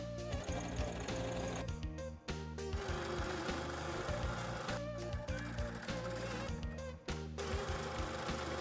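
A sewing machine stitches a fabric pennant in long, fast, continuous runs, close and loud, briefly pausing twice before whirring on again.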